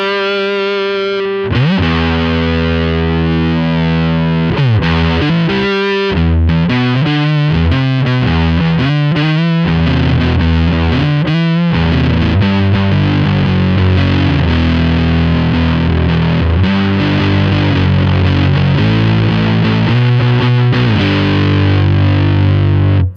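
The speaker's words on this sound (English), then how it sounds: "But here's an actual fuzz tone." Distorted, fuzzy electric guitar through a Line 6 POD Express amp modeler's fuzz setting, playing loud sustained chords and choppy riffs with thick saturated tone throughout, no talking.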